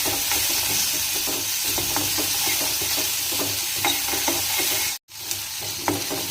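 Sliced onions sizzle and fry in a hot pan with asafoetida (hing) and curry leaves, a steady crackling hiss broken by scraping stirs, with a brief cut in the sound partway through.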